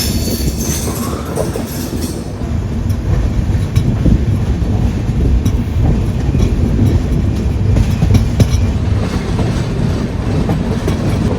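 The Hisar AC Express rolling along a single-line track past close-set buildings: a loud, steady rumble of wheels and carriages with clattering rail joints and some squeal, heard from inside the moving train.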